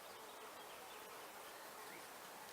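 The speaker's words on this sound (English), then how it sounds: "the bees are on it too" Bees buzzing around blooming lavender in a summer garden, a soft continuous hum with faint, low-level insect drone throughout, no voices.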